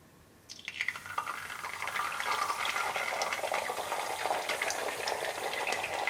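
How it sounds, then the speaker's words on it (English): An egg drops into hot oil and starts to sizzle and crackle steadily, a sudden onset of bright, close frying noise that holds without a break. "Our oil is hot, so now it's time to add our egg."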